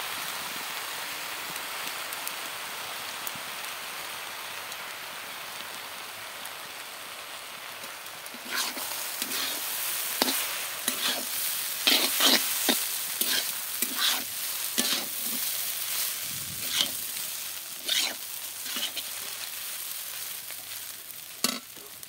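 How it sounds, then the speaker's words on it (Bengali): Chow mein noodles frying in a pan with soy sauce, chilli powder and a dash of rose water, a quiet steady sizzle at first, then frequent clattering stir strokes and scrapes from about halfway through, close and with no talk. "এবার দেখো চাউমিনটা প্রায়টা ভাজা ভাজা হয়ে এসেছে"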